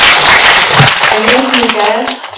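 An audience applauds to welcome a host at a youth mentoring talk event, the clapping heard under and around an announcer's voice, fading out near the end.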